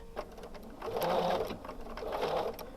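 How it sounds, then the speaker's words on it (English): A sewing machine back stitching on a quilt border, running in two close, steady bursts of rapid mechanical stitching with a short pause between. "I'm going to sew all the way to my marked line, and then I'm going to back stitch over it just a little bit"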